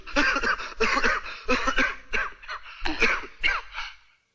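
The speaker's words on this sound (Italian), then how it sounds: "Hai la tosse?" A string of harsh, raspy coughs in short bursts with brief pauses between, close and fairly loud, trailing off at the end.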